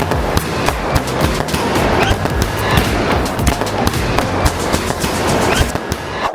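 Firecrackers burst repeatedly during a home celebration, a dense crackling barrage of sharp pops layered over a steady roar of continuous bangs, loud and close throughout.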